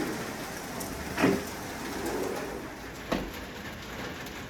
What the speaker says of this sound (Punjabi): 2 ਦਿਨ ਤੋਂ ਲਗਾਤਾਰ ਬਾਰਿਸ਼ ਚੱਲਦੀ ਪਈ ਹੈ ਤੇ ਇਹ ਸ਼ਹਿਰ ਜਬੇਲ ਦੀ ਸੂਰਤ ਹਾਲ ਹੈ